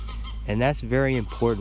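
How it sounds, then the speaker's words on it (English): Geese honk loudly outdoors in several sharp, nasal calls with short gaps between them, while someone speaks quietly underneath. "As you hear the birds chirping out here,"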